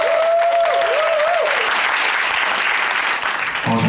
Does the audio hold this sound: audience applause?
yes